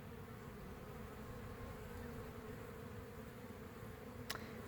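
Young honeybees from last year's hives fly around an apiary on their cleansing flight, making a steady, quiet droning hum with no break.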